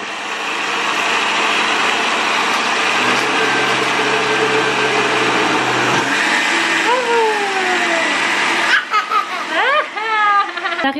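A kitchen blender whirs loudly and steadily for about nine seconds while mixing quiche filling, then cuts off, leaving children's chatter and laughter.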